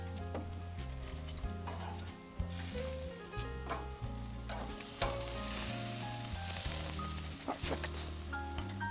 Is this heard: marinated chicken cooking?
yes